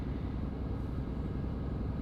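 A hybrid car engine runs smoothly just after starting, a low, even rumble close by and steady throughout, with no speech over it.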